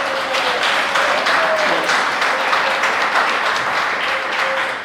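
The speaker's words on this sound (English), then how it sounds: "so everyone give Ron a big round of applause" An improv class audience breaks into a big round of applause, loud, dense clapping that holds steady throughout, with a faint tone running beneath it at moments.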